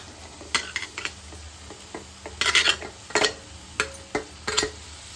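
Mushrooms sauté in pepper masala in an oily pan, giving a soft, steady sizzle. Sharp, irregular spatula scrapes and clinks against the pan break through it, close up, with no talking.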